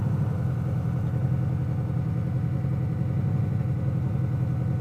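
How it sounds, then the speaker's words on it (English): A Triumph 400 single-cylinder motorcycle idling hot with its cooling fan running, a steady even engine hum and whirring drone that holds constant and fairly loud throughout, with no voices. "Roland's bike fan is on. I can hear it over here."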